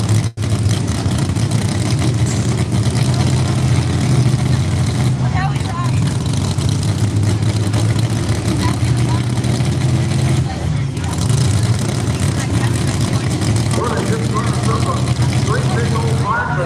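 Pulling tractor engine revving at a tractor pull at the ECIPA season championships in Rockwell, Iowa, a loud continuous roar held throughout with only small surges in pitch, a commentator talking over it.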